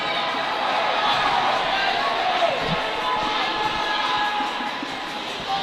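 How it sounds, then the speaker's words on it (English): Hockey crowd at a St. Paul's School versus Phillips Andover prep game, a steady broad wash of cheering and arena noise holding loud throughout and easing slightly near the end. "They're cheering after every whistle, and they're really into it."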